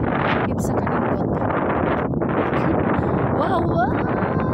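Strong wind buffets the microphone outdoors in steady, loud gusts, with a voice briefly heard faintly beneath the roar.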